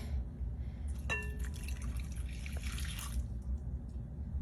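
A short pour of water splashes and trickles into a bowl of taco seasoning mix for about two seconds over a low steady hum.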